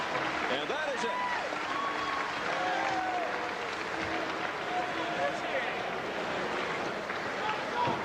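A boxing arena crowd applauds after the fight with a steady, moderate wash of clapping and crowd murmur throughout, with scattered shouts and whistles under ongoing commentary.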